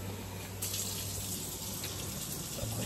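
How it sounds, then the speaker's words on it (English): Tap water runs steadily into a small pot at a kitchen sink while preparing water bath canning, a continuous soft gushing hiss that stays at an even, moderate level throughout. "So I'll just fill up a little pot here and put that in the boiling water."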